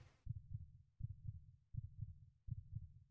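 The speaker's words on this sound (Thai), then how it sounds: "ทำไมหัวใจเต้นอ่ะ" A heartbeat thumps in steady double beats, four lub-dub pairs in a slow, even rhythm, deep and muffled, from the horror video game The Closing Shift; no talk is heard.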